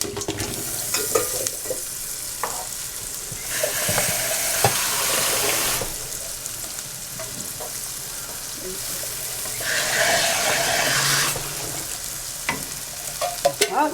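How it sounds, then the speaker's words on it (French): Red beans are rinsed in a colander, with two bursts of rushing, splashing water separated by quieter scraping and rattling of the beans. "je vais prendre la passoire pour y mettre mes haricots rouges que je vais rincer"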